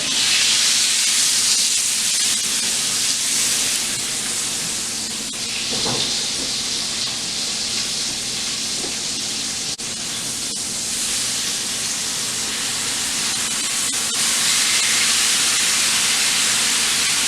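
Ribeye steak with onions and mushrooms cooking, giving a steady loud sizzling hiss that continues without a break, with a few brief louder crackles and pops along the way.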